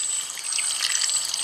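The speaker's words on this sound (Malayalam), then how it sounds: "പിന്നെ ഇതിലേക്ക് കുറച്ച് വെള്ളം ഒഴിക്കണം." Water poured into a pan holding Marayur jaggery, a steady close trickle and splash running without a break through the short stretch, with no talking.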